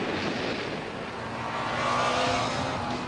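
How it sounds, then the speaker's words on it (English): A 1998 Kawasaki ZX9R superbike being ridden on the road, a continuous engine roar with steady rushing wind noise and a slight rise in pitch toward the end. "I'm riding Kawasaki's 1998 ZX9R"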